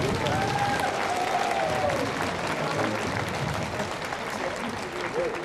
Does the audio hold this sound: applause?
yes